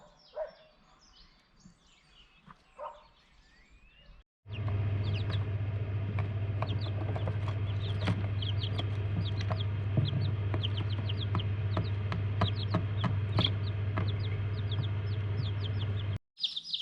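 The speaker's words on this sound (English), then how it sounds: "some little spring chickens. They just hatched." Newly hatched chicks peeping and hens clucking on a Portuguese farm in spring, a dense run of high chirps over a steady low hum, with quieter scattered calls at the start.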